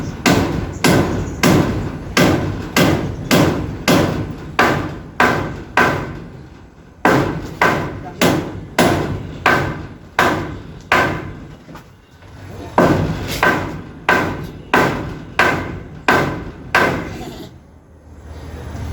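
Loud, regular hammer blows during kitchen construction work, strokes in quick rhythmic runs with brief pauses between bursts.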